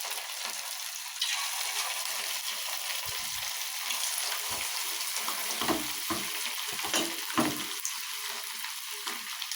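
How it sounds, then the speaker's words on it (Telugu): Chicken pieces dropped one by one into hot oil hiss and crackle in a steady close fry, with occasional louder bursts and stirring clatter, no voices. "చికెన్ కొంచెం కొంచెం తీసుకొని అలా నూనెలో వేసేద్దాం,"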